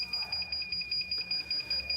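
A heat press timer beeps in a fast, regular series of short electronic tones, clear and close, pulsing evenly for the whole stretch with faint room noise beneath.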